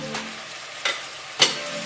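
Chopped onion frying in oil, a soft sizzle broken by three quick stirring scrapes spaced across a couple of seconds, close and quiet with no voices.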